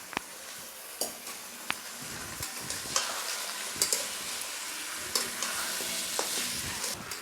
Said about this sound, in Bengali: অল্প আঁচে এটাকে আস্তে আস্তে নেড়ে নেড়ে চালটা ভেজে নিতে হবে।